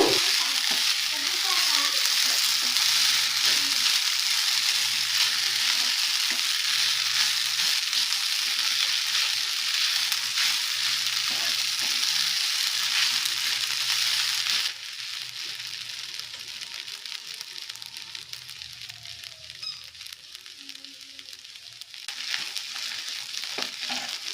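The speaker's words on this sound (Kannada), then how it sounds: "ಇದನ್ನು ಚೆನ್ನಾಗಿ ಮಿಕ್ಸ್ ಮಾಡ್ಕೋಬೇಕು" A potato and sabudana mixture fries and is stirred in a pan, giving a steady hissing sizzle with soft scraping that drops briefly in loudness midway before picking up again, with no voices.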